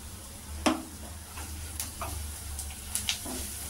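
A spoon stirs cumin powder into an ivy gourd fry in a pan, giving a soft, low sizzle with scattered light scrapes and clicks against the pan, close but quiet, no voices.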